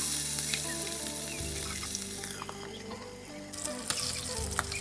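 Fish frying in a pan for a tamarind simmered fried fish dish, a continuous close hiss of hot oil with faint clinks and small pops, no talking.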